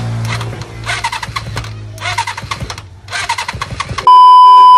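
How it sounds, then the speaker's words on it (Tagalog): A motorcycle engine cranks and sputters in several loud bursts, catching briefly between attempts, before settling into a steady whining tone at the end. "Kaya eto na yung pinale na mapapaandar ko na yung makina nito."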